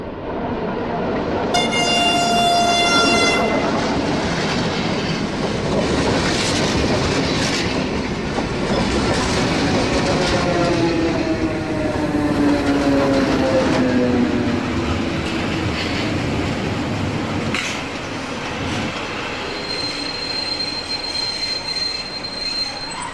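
A train passes a railway crossing in The Pessimist, opening with a loud horn blast, then a long roar of rolling wagons with clattering wheels and high metallic squeals, close and loud throughout.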